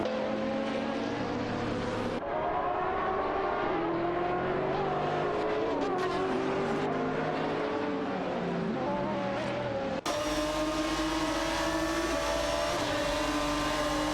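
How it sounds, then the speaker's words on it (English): Race cars in an AI racing video game scream past with rising and falling engine pitch, one continuous high-revving roar shifting between cars, loud and close throughout. "Racing car dashing."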